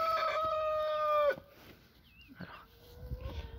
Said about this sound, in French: je vais vous montrer du coup les 2 poules qui sont dans la cabane